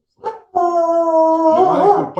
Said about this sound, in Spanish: Me va a disculpar que el perrito comienza.